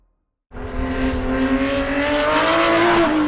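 A Porsche 917 race car engine bursts in after a brief silence and holds a loud, steady high-revving roar, its pitch climbing slowly as it accelerates.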